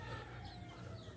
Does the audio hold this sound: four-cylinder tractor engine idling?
no